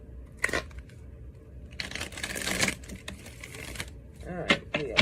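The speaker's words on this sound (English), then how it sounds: "One more shuffle." Tarot cards are shuffled by hand in a few bursts of crisp rustling and flicking, close and fairly quiet, with pauses between and a voice talking in the background.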